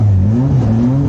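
Stock car racing engines at a Stockrods race at Kleinplasie, a steady loud drone with a rising and falling pitch as cars run together on track.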